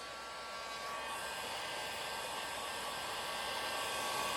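Black spray paint hisses from an aerosol can onto bipod mount parts for a rifle, a continuous, fairly quiet airy spray lasting several seconds with no pauses and no speech.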